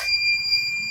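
A buzzer on an IoT women's safety device gives a steady, continuous electronic beep while its push button is pressed. The tone is sustained for nearly a second over low background hum, with no talk.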